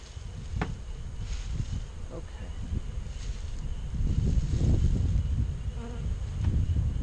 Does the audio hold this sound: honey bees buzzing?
yes